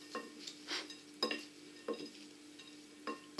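Utensil stirring a celeriac remoulade mixture in a bowl after salt and pepper go in, giving a few separate scraping, clinking strokes close by with quiet pauses between them.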